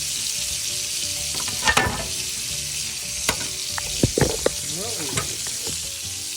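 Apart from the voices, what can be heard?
meat frying in a pan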